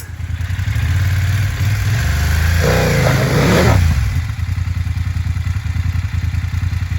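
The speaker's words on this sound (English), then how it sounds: "Loads of gas and dump the clutch." A Yamaha Tenere adventure motorcycle stuck in mud on an off-road trail revs hard, its engine roar swelling and dropping back, with a rough, sputtering idle afterward, close and loud, and no voices.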